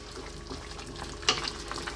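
Tomato sauce simmering in a pan over lowered heat, with a soft continuous bubbling sizzle, close, and one brief sharper tap partway through.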